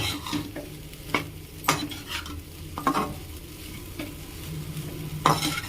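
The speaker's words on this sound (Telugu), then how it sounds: "ఇప్పుడు రైస్ని మనం మంచిగా కలిసే విధంగా ఒకసారి మంచిగా కలిపేసుకుందాం" Cooked rice is stirred into egg fried rice in a hot pan, with a constant sizzle under irregular scraping and knocking strokes of a spatula against the metal at close range.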